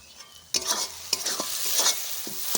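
A spatula scrapes and stirs butter egg masala curry in a frying pan under a constant bright sizzle, with several sharp clinks against the pan, close up and without speech.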